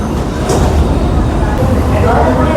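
An AC local electric train runs at speed between Ranaghat and Sealdah, heard from inside as a loud, steady rumble and rattle of wheels with a brief hiss, while someone talks over the noise.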